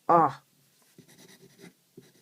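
A Franklin Covey Freemont fountain pen scratching across paper in short, close, dry strokes, following a brief spoken word at the start.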